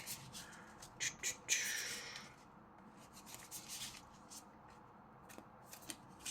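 Quick papery riffling and flicking of playing cards in short bursts, close up, fading to lighter soft rustles and taps.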